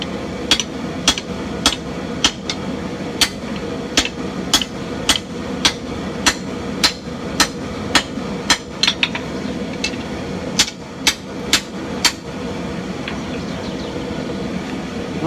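Hand hammer striking a Viking sword blade on an anvil during forging: a loud, regular series of sharp metallic blows, about two per second, with a brief pause partway through and no talk.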